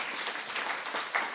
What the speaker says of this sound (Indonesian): bikin semangat dulu, tepuk tangan dulu